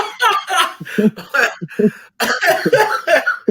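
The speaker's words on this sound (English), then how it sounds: "that cough just hurt my hernia" Several bursts of harsh coughing mixed with breathy laughter, close and loud, with a short pause midway before the fit resumes.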